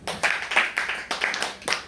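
A church congregation claps together in praise, a close burst of several rhythmic rounds of hand claps over a couple of seconds.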